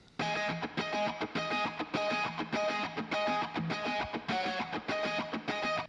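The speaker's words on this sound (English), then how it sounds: "The only difference between this and the main rhythm guitar track is that there's reverb." An electric lead guitar plays a repeated chord pattern with a wet, spacious reverb tail, the strums falling into a steady rhythmic pulse.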